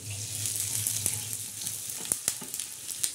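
Coriander seeds dry-roasting in a pan give a soft, steady crackle and rustle with a few sharper ticks near the end, faint and close, with no voices.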